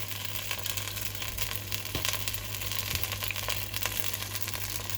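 Coconut cream poured into a simmering Sri Lankan potato curry, giving a soft, steady sizzle and bubbling in the pan with a couple of faint clinks, close and quiet.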